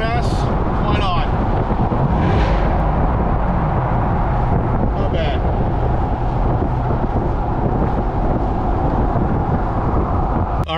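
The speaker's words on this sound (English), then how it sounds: "Exhaust under an overpass." A Chevrolet C8 Corvette's exhaust roars steadily beneath an overpass, a loud continuous rumble with wind buffeting throughout and no clear breaks across the span.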